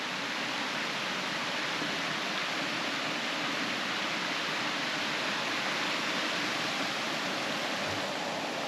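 A river in Iao Valley on Maui rushes steadily in a jungle setting, its broad, even hiss holding constant and loud throughout with no voices.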